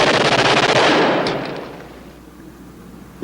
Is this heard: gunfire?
yes